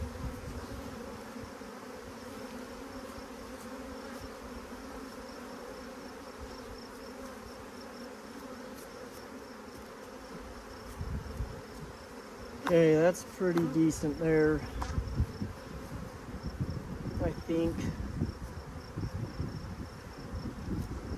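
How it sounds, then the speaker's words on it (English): Honeybees hover and buzz steadily around a beekeeper grafting queens outdoors beside a truck, a continuous low drone with a voice talking briefly near the end. "I don't have to sit and fight all these bees trying to get on everything"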